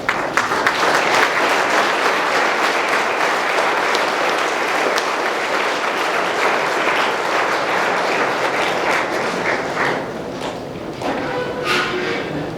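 An audience at a science and innovation lab event stands and applauds, sustained loud clapping for about ten seconds that thins out near the end.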